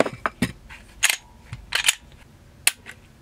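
A series of short, sharp clicks from the trigger of a Smith & Wesson M&P 2.0 Compact pistol breaking during pull-weight tests. They come as separate snaps, close and fairly crisp, with quiet gaps between them.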